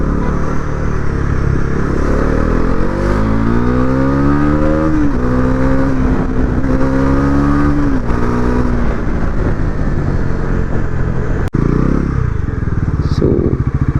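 Stock exhaust of a Bajaj Pulsar NS400 motorcycle, loud and close, idling with a deep steady burble before revving up and down through several rising and falling sweeps, continuous throughout.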